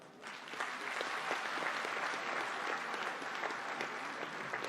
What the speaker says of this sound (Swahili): waomba mpigie kwanza makofi